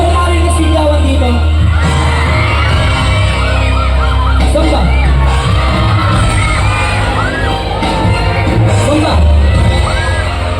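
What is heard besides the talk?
live concert crowd shouting and cheering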